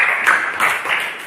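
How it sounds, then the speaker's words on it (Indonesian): A classroom of students applauds group 1, a brief dense patter of many hands clapping together at close range, steady and fairly loud with no voices over it. "Tepuk tangan untuk kelompok 1."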